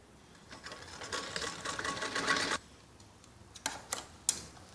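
A sewing machine stitches stretched elastic onto a kids' skirt, a close, fairly quiet run of rapid stitching for about two seconds, then a pause and a few short separate bursts.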